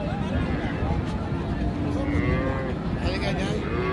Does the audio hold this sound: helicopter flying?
no